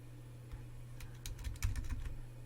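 Someone types on a computer keyboard while configuring Cisco OSPF networking, with scattered soft key clicks picking up into a quicker burst, fairly quiet against a low steady hum.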